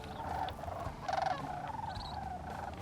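Sandhill cranes give rolling, trumpeting calls from a distance in several bursts, steady and fairly faint against an open outdoor background.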